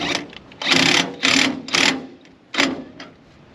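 A homemade stabilizer jack system on a cargo trailer runs in several loud mechanical bursts of whirring, each lasting about half a second, separated by short pauses, close to the microphone.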